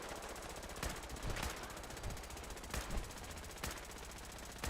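Rapid automatic gunfire in Fallout 4, a dense rattling stream of shots over a constant hum, punctuated by several louder cracks and thumps at irregular intervals, no talking.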